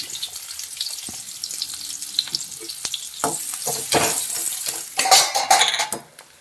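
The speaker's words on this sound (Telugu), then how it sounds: "ఉల్లిపాయలు ఇలా దూరగా వేయించుకోవాలి" Onions frying in oil in a kadai for egg masala curry, a steady sizzle with utensil scrapes and clinks, swelling louder and busier toward the end.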